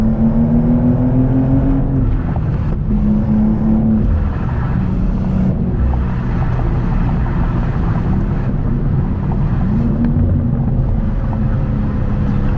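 Manual BMW M2 G87 engine revving on downshifts while driving, a loud droning engine note that dips and rises with gear changes amid road and wind noise, no talking.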